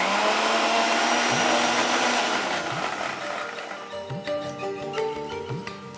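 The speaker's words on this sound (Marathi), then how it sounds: "मी आता याला वाटून घेते." A kitchen mixer grinder blitzes a papaya and chikoo mixture with a loud, steady whirring roar that fades and loosens over about four seconds, leaving a softer, uneven churn with clinks as the blades slow.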